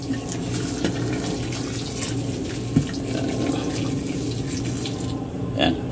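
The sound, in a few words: pouring hot water into tinola chicken soup pot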